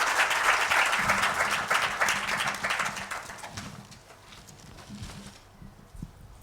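An audience applauds a debate panel after a post-SONA debate, a dense wash of clapping that starts loud and gradually thins and fades, with a few scattered claps near the end.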